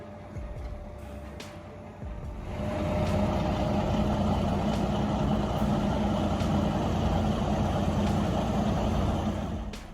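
A heavy logging truck loaded with 25 to 30 tons of wood rumbles nearby, its low diesel drone swelling louder after a couple of seconds and then holding steady, with a faint hiss early on.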